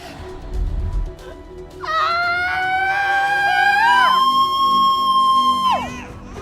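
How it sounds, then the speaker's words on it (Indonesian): A loud, sustained high-pitched scream rises, holds, then drops into a second long shriek, following a brief low thump. "teriak-teriak kenceng banget"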